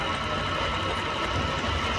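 A Japanese Singer-type sewing machine runs a triple stitch on jacket fabric, giving a steady, dense mechanical whir that stays even and fairly loud throughout, with no voices.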